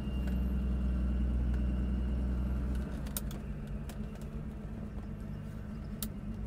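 A 1990 Santa Matilde SM 4.1 classic car idles with a low steady engine rumble nearby, the deep drone dropping partway through, with a few faint clicks on top.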